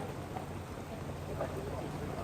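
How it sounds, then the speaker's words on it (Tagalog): Rain falls steadily in Hanoi, Vietnam, a constant broadband hiss with soft patter that holds evenly throughout, with faint voices mixed underneath. "Naulan, guys, ngayon."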